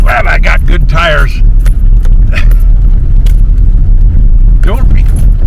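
A car with good tires rolling over big rocks on a rough campground road makes a loud, steady rumble. Jangling rattles come in sharp bursts early on, and a voice is briefly heard at the start.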